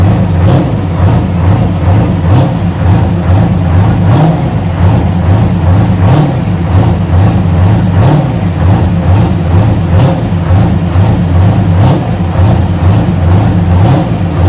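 A Detroit Diesel V12 engine runs loudly and steadily at a rod run event, with a deep, continuous rumble and regular pulsing throughout, no talking over it.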